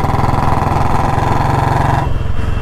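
A loud Royal Enfield Bullet motorcycle engine runs close by with a steady, throbbing drone and a rapid pulsing beat, easing slightly near the end.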